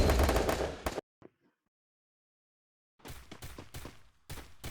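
Gunfire in a Free Fire 4v4 match: a loud burst of rapid shots, then a brief silence, then more quick volleys of shots in clusters, fairly close and with no talk.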